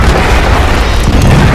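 Siege weapon firing in a video game battle, a loud, deep, booming blast that fills the short moment, close and heavy with no talk over it.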